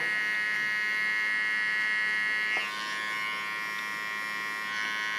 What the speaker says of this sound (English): Also this line I clean with my clipper.